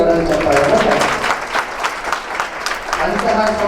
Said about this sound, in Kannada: ಈಗೆಲ್ಲರೂ ಜೋರಾಗಿ ಚಪ್ಪಾಳೆ.